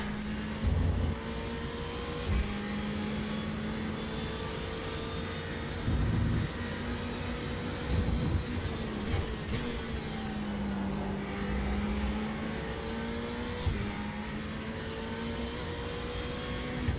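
A Ferrari GT3 race car engine drones steadily in the iRacing sim at Donington, a sustained roar with rising and falling pitch through gear changes, loud and continuous with no talking.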